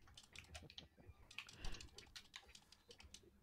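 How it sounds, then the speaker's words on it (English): A cat walks across a computer keyboard, making a quick irregular patter of faint key clicks during a game session, with quiet background voices. "the cat just walked across your keyboard"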